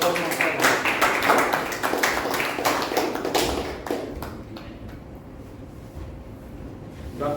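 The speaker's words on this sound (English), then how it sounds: "Say big round of applause for Toastmasters." Applause rises from an audience at a Toastmasters club meeting, a dense, steady patter of clapping that thins and fades toward the end, with faint voices underneath.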